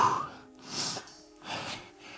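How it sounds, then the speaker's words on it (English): Heavy, rhythmic breaths after a bout of mountain climbers in a no-equipment home workout, several loud gasping inhales and exhales close to the mic with short pauses between. "I'm out of breath right now."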